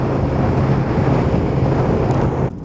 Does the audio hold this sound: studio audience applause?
no